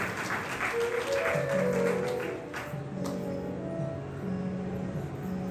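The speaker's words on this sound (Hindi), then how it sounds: "इसलिए और जोर से ताली बजा करके इनका अभिनंदन करना चाहिए।" Audience at a Shrimad Bhagavat Katha religious gathering applauds its hosts, a steady wash of clapping that swells early and holds throughout, with a sustained musical drone underneath.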